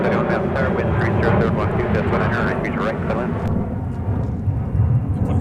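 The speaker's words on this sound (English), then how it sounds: "So Alaska is ready to roll back to Chicago." An Alaska Airlines jet takes off at MSP airport with a loud, rumbling engine roar filling the scene, while a person talks over it throughout.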